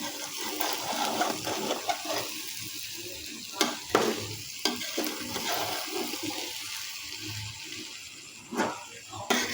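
Khichuri with fried cashews and almonds stirred in a pot, soft scraping and sizzling under a steady background hiss, with a few sharper knocks of the spoon against the pot.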